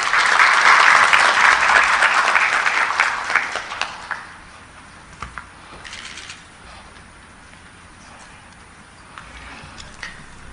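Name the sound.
audience applause welcoming the Regional Commissioner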